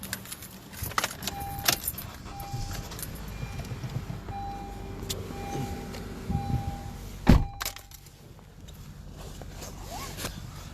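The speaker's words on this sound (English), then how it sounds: "Yes, so I'm getting in my vehicle now." Someone climbs into a car: keys jangle repeatedly up close, with rustling, a door thunk and a few faint electronic chimes, then quieter cabin ambience.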